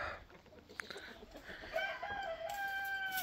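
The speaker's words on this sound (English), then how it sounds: "chickens go out into the grass for the first time of the year" Backyard chickens let out onto grass for the first time in the year cluck and crow at moderate distance, a few birds calling over soft outdoor ambience.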